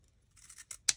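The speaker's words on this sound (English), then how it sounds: "using my fringe scissors, and again, you could use probably just regular micro-tip scissors to do this, fringe it" Fringe scissors snip through a strip of paper in three quick cuts that build toward a final sharp, bright close, heard up close and alone.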